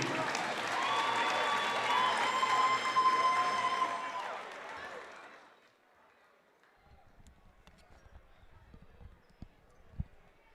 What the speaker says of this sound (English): Let's have a big round of applause for our all-tournament team.